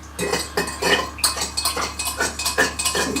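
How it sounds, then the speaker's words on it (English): A stainless steel IKEA fork stirs and clinks inside a container of dissolving plating solution, giving quick rhythmic metallic scrapes and taps, close and fairly clear, with no talking. "after a fair bit of stirring with this stainless steel IKEA fork"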